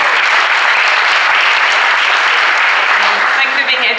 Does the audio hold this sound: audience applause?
yes